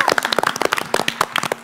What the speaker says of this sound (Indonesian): Tepuk tangan dulu dong untuk Gunung Padang.